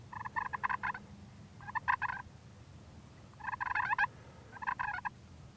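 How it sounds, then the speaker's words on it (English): Wild turkey gobbler strutting outdoors, delivering four loud rattling gobbles in spaced bursts over a low ambient rumble, fairly close. "He's coming. There you go."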